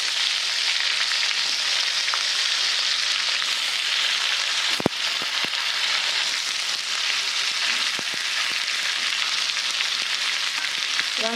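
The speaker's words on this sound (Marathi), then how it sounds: "आता वांगे परतून घेऊ आपण चांगले" Brinjals sautéing in hot oil for masala vangi, a steady close sizzling hiss broken by a sharp knock and a few scraping stirs, with no voices.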